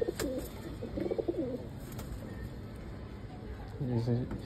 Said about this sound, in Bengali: এই হচ্ছে লাদেন কবুতরের একটা মাদি কবুতর